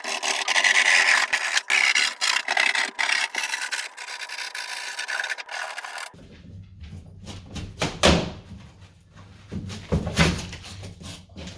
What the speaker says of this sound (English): Hate cutting into fresh drywall, but I gotta do it.